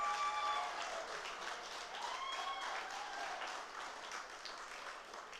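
Crowd applause at a political speech by an MP, a steady wash of many hands clapping at a distance, fairly faint, with no talk over it.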